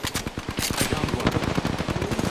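Rapid video game machine-gun fire in a battle royale match, a dense, loud burst of fast repeated shots running continuously, close and dominant throughout.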